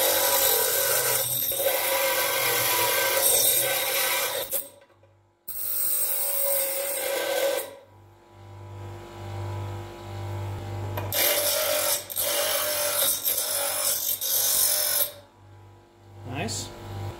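Parkside PDOS 200 C2 double bench grinder grinding and polishing metal, including soft aluminium, with bursts of bright, rasping contact noise over the motor's low hum, cut by short pauses and brief quiet gaps, while a person talks at times.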